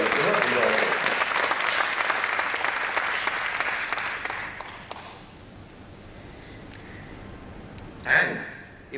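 A crowd applauds loudly after a corporate executive's speech, a dense, steady clapping that dominates the first few seconds and then thins and fades away, with a brief burst of noise near the end.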